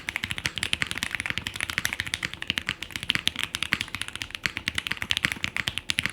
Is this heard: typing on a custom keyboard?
yes